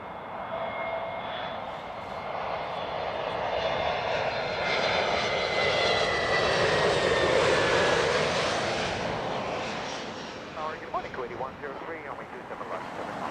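Virgin jet airliner engines at Heathrow Airport roar loudly and steadily, swelling to a peak midway and then easing off as the aircraft passes, with a few faint chirps near the end.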